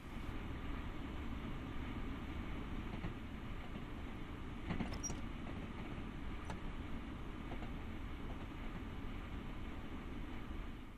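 Train running under brake on a rail corridor in Train Sim World, a steady low rumble of wheels and braking with occasional faint clicks and squeals, continuous and moderately quiet.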